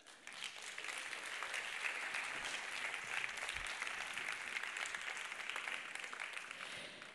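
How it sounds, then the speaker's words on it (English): A conference audience at the ChangeNOW 2022 session claps for Chris Johnstone, a guest joining remotely on screen: a soft, even, sustained round of applause lasting several seconds, fairly faint and distant. "we will still make a beautiful round of applause for Chris Johnstone"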